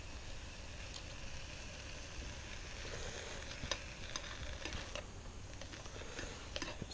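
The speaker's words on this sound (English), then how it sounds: "Sizzle going anyway." Sausages sizzling faintly and quietly on a Trangia camping stove with a meths burner, scattered soft ticks and pops, fairly close, no one speaking.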